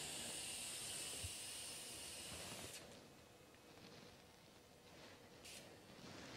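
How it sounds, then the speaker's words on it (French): Bluestar Magnum reagent sprayed from a spray gun in a darkened room, a soft faint hiss that runs steadily, then drops away after a few seconds, with a brief renewed burst near the end. "On utilise maintenant le spray gun qui va permettre de ne pas déformer la trace"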